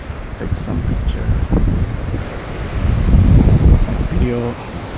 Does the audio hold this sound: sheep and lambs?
no